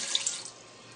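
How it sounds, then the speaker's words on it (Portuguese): Half a glass of water poured into a cooking pan, a brief close, steady splashing trickle with no voices. "Agora nós vamos colocar meio copo de água."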